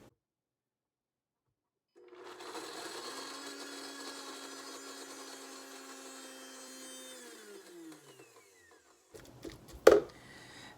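A kitchen blender whirs through garlic scape pesto with a steady, fairly faint motor whine, then winds down and stops, followed by a couple of short clattering knocks.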